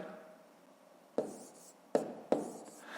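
Pen writing numbers by hand while solving a fifth-grade math exercise: three short, scratchy strokes at close range in a quiet room, with no talking.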